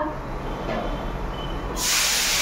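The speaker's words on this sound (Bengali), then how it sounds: "এখন মা ওই যে ভাজাটা বসিয়েছে" Food frying in a pan on a home kitchen stove gives a steady, broadband hiss that swells louder near the end, with no one speaking.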